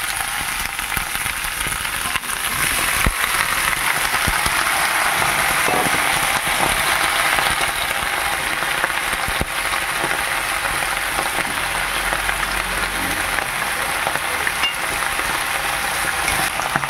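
Malabar spinach dropped into a pan with fish head, frying and sizzling steadily and loudly for a long stretch with a constant hiss and no voices.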